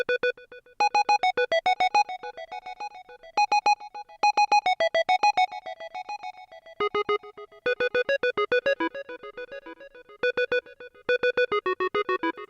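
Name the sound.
simple square wave synth pattern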